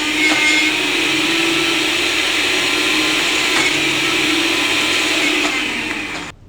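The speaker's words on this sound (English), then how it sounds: "So I'm transferring this to my smoothie maker actually, but even an ordinary blender is also fine." A smoothie maker blends soaked dal with cumin seeds, a loud steady motor whine with a gritty grinding texture that runs continuously for several seconds and then cuts off abruptly at the end.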